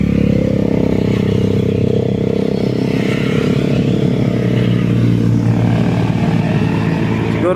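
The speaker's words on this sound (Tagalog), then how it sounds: "Ayan ay mga big bike." Big motorcycles riding past on a mountain road in the Marilaque area, with a constant loud engine drone and revving throughout, close to the listener and steady in level.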